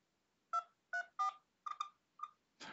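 A quick run of six electronic telephone keypad tones, each a short dual-pitch beep with small gaps, clear and close with a quiet background.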